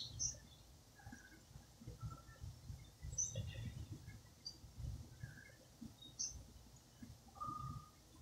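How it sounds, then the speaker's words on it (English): Scattered birdsong on a quiet morning outdoors: faint, sparse chirps and short calls drift in at a distance over a low, steady rumble of background noise. "Birds are dying down already."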